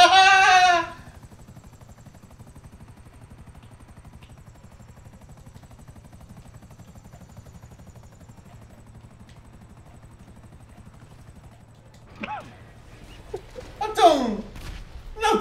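A helicopter in the GTA Online video game gives a faint, steady low rotor drone, framed by brief louder bursts of game sound at the very start and again near the end.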